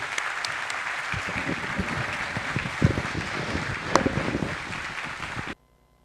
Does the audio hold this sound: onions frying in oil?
no